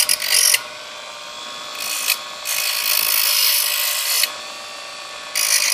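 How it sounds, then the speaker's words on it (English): A power tool rounds off the edges of a metal differential tool for a B44, its high whine grinding in uneven bursts with short pauses and shifting pitch, close and loud, with no talking. "I'm just gonna round these edges off a little bit."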